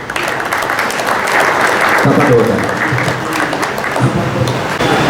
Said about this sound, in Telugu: కొద్దిగా సంతోషంగా చప్పట్లు కొట్టుకుంటే